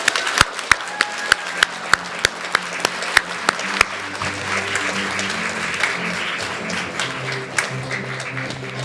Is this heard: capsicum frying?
no